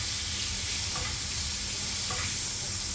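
Ribeye steak sizzling in butter in a pan, a dense loud continuous hiss and spatter close up, with faint crackles and no pauses.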